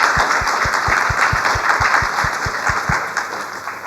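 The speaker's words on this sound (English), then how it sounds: "give a huge round of applause for our amazing" Steady audience applause for a peace-negotiations panel fills the room, dense and even throughout, with individual claps blurring into a continuous wash and no talking.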